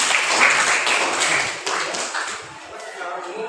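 Students clapping together in a classroom during a mathematics lesson, a dense patter of hands that fades gradually over a few seconds, with some voices mixed in.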